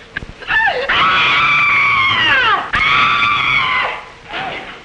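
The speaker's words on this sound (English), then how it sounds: "Did I hear somebody scream?" A person lets out two long, high-pitched screams, each sustained for a couple of seconds and separated by a brief gasp, loud and close.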